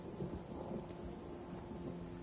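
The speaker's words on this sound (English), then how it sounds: "I could do without this damnable rain. It's been storming since we arrived." Steady rain falls with rolling thunder in an Elder Scrolls Online storm, a dense wash of rain noise with low rumbles running beneath it throughout. The sound is fairly quiet and no voice is heard.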